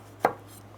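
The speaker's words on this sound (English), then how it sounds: "Now we can chop the tomatoes even further." A single sharp knife chop through tomatoes on a cutting board, one crisp close impact in a quiet kitchen while a Shepherd's salad is prepared, with no voices.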